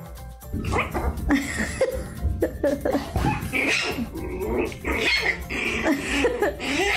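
Big and small dogs in a pet compilation bark, yip and whimper in repeated close bursts, with a sneeze-like snort among them and background voices mixed in.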